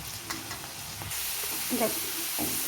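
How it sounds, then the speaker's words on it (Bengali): Dal bhaja lentil fritters frying in oil over medium heat, a steady close hiss and sizzle with light stirring scrapes throughout, no talk. "আমি ভাজছি।"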